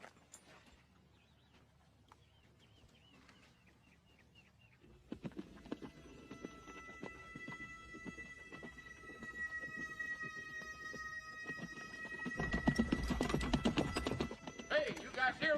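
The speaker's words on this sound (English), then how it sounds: "Is that a horse?" Horse hooves clip-clop in a Western cowboy film scene, faint and sparse at first and then louder and denser as a horse draws nearer, with a bright, steady music-like tone and other scene sounds beneath.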